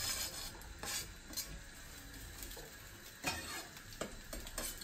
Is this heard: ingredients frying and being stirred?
yes